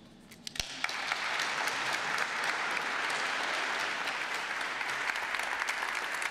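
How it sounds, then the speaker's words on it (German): Audience at a Hamburg Chamber of Commerce welcome event breaking into applause, a sharp clap start that swells into sustained dense clapping from a large crowd, steady and fairly distant. "dieser Applaus ist deiner, lieber Norbert"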